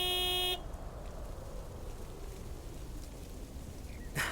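A video game mail truck sounds one short honk from its horn at the start, followed by quiet rain-like background noise and a faint burst at the end.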